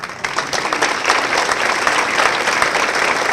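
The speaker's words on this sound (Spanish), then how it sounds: "Párate para que le demos un aplauso a la mamá de Everardo." A live audience claps together at a women's event hosted by a deputy in San Luis, a steady dense patter of many hands that holds loud and even from start to finish with no voices on top.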